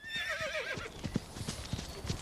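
A horse whinnies with a wavering, high neigh, followed by several clip-clopping hooves stepping at an uneven pace nearby.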